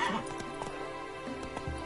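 Roach the horse gallops in Witcher 3, with a steady run of quick hoof clip-clops and a brief whinny-like tone near the start. The sound is close and moderately loud, with no talk.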